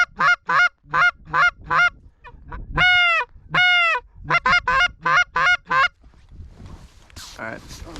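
Geese honking during a goose hunt, loud rhythmic bursts of close nasal honks in quick series, likely from a call, ending with fainter distant calls and rustling.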